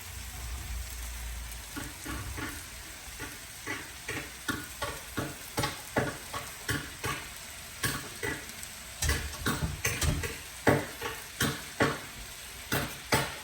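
Rice and vegetables with chili and coriander-cumin powder get stirred in a pan for pulav: a long series of regular spoon scrapes and taps against the pan over a low sizzle, quickening toward the end, no voice.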